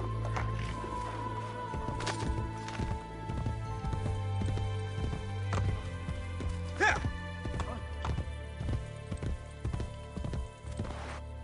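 A horse gallops and leaps in Assassin's Creed Brotherhood, rapid clip-clopping hoofbeats sounding close and steady over low background music, with a brief sharper thump midway and no voices.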